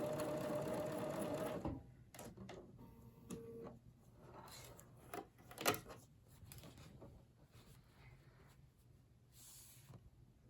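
A sewing machine runs a short, quiet burst along a fabric seam, then falls to faint clicks and handling noises at a low, close level.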